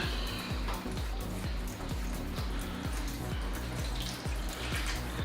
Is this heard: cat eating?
no